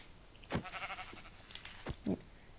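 Sheep in Minecraft bleating several times in short, close calls with quiet gaps between them.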